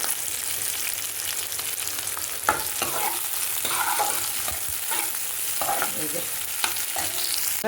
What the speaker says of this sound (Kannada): ಎಣ್ಣೆ ಕಾದಿದೆ ಇವಾಗ ಈರುಳ್ಳಿನ ಹಾಕ್ಬಿಟ್ಟು ಸ್ವಲ್ಪ ಚೆನ್ನಾಗಿ ಫ್ರೈ ಮಾಡ್ಕೋಬೇಕು